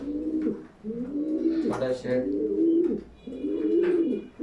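Soft, throaty pigeon coos repeat up close in a steady rhythm, a few low calls rising and falling.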